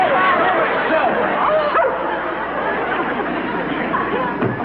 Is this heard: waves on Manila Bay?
no